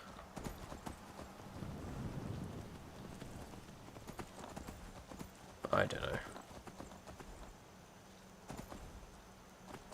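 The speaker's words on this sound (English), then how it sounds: "Skyrim horse ride. I hate it so much." Horse hooves clip-clop in a steady walking rhythm while riding in the video game Skyrim, with someone talking over the footsteps and a brief louder thump midway.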